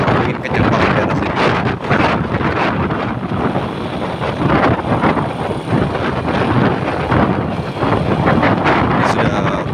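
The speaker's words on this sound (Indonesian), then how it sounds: "videonya agak kresek-kresek ya, karena suara angin kencang banget di daerah sini" Strong gusts of wind buffet the microphone outdoors in the countryside, a loud, continuous rumbling roar that swells and dips in waves throughout.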